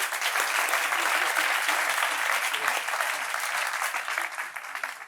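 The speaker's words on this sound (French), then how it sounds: "l'applaudir, s'il vous plaît, madame, monsieur." A live audience claps steadily at a French talk show, a dense, even wash of applause held at full strength for about five seconds, with no voices over it.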